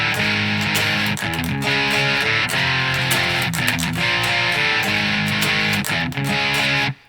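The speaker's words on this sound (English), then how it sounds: "It's exactly the same chords, just with distortion." Distorted electric guitar chords of a song strummed steadily and loudly in a repeating pattern, with no voices, ending abruptly.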